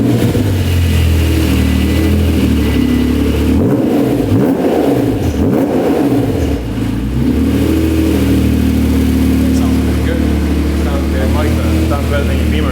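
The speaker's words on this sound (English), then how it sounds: "If you have an NSX, these cars are super quiet when they're stock. I just put a cat delete with straight pipe and a muffler" An Acura NSX with a cat delete, straight pipe and Pride exhaust system revs steadily, its loud engine tone rising and falling close by throughout, with people talking over it.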